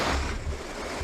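Water from a waterfall in Japan pours over rocks, a loud, continuous rushing roar heard up close with no voices.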